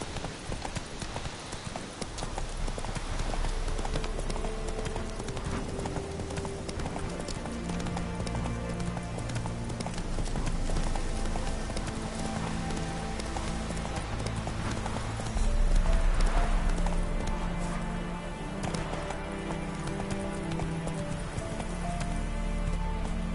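Roach, the horse in The Witcher 3, gallops in a continuous rhythmic clip-clop of hooves, close and steady, set against a game soundtrack with a brief voice near the start.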